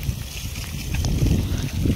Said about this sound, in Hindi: बहुत ही ठंडी हवा चल रही है यार